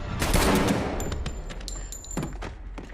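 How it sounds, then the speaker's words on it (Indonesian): Gunfire in an action sniper film: a burst of rapid shots opens the moment, followed by scattered heavy thuds and sharp reports that fade under a lingering rumble. "mereka pun saling adu cepat menembak"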